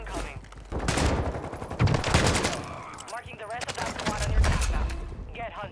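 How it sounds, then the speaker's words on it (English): Rapid bursts of automatic gunfire in the Warzone 2 shooter game, loud and sustained in overlapping volleys across the whole stretch with brief lulls, a faint voice barely present underneath. "I was shooting the guy"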